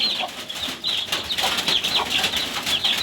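Chicks peep in a busy, continuous chorus with occasional soft hen clucks mixed in, close by and fairly steady throughout.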